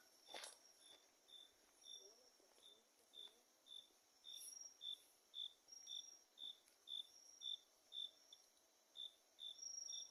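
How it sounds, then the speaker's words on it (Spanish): Outdoors on a dark night, a nearby cricket chirps in faint, steady, evenly spaced pulses, with a few soft rustles and clicks and no talking. "Oye ese grillo."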